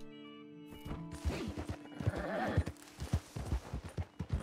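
A horse in Red Dead Redemption 2 gives a whinny, followed by a series of rhythmic hoof clip-clops that repeat steadily, moderately close and clear against quiet game ambience.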